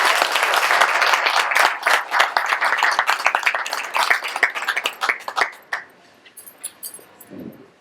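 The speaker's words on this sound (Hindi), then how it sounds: "और एक बार जोरदार तालियां हमारी सुंदर ऑडियंस के लिए" A live audience at a stage performance bursts into loud, dense applause that thins into scattered claps and fades out over the last couple of seconds.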